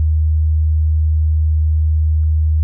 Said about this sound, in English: it uses very stable and precise digital frequency modulation to achieve almost the same kind of sounds